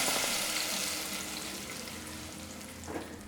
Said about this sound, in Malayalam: ഇനി നമുക്ക് റെഡിയാക്കി വെച്ചിരിക്കുന്ന പരിപ്പ് കറിയിലേക്ക് ഈ താളിപ്പ് ഒഴിച്ചു കൊടുക്കാം